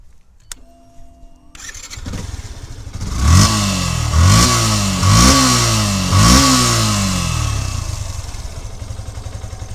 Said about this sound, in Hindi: अब मैं आपको इसका साउंड सुना देता हूँ बाइक का।